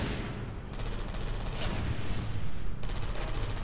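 Rapid mechanical gunfire from automated turrets in the video game Portal 2, a dense continuous rattle of shots that cuts in and out in bursts, loud and close over steady game noise.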